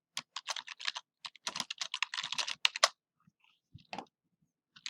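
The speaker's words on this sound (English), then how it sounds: "I am going to type my name." Typing on a computer keyboard in two quick bursts of close, crisp key clicks, then a pause and a few scattered taps, with no talking.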